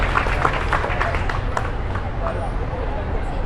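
A protest rally crowd applauds outdoors, a dense, steady wash of many hands clapping at close range that carries evenly through the whole stretch.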